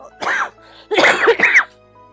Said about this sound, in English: I'm sorry if my coughing is really loud.